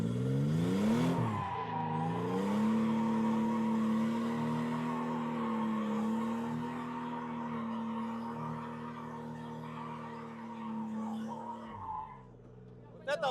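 A car drifting around a track, its engine holding a steady high drone on throttle with a long sustained tire squeal layered over it, close and loud throughout before dropping off near the end.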